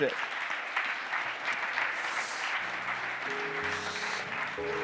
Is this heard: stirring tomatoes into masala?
no